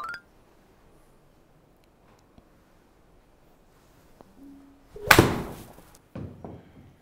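Golf swing with a club striking a ball during a lesson, a sharp loud impact burst followed by a brief second clatter, preceded by faint small knocks in a quiet setting.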